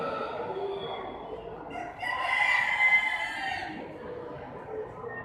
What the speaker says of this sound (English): So these are Bantam Rhode Island Reds, Bantam New Hampshire Reds.